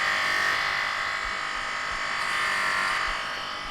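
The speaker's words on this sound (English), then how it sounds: "Because this abrasive belt is a little bit on the large size for some of these intricate bits" Abrasive belt polishing an aluminium Harley-Davidson side casing, a continuous close buzzing grind that swells and eases slightly as the part is worked, with no talk.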